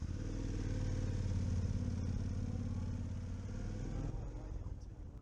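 A motorcycle rides along the Buckets Way, a country road near Gloucester, with a steady mid-pitched engine drone and road rumble. It stays close and loud throughout, easing slightly toward the end, with no talking.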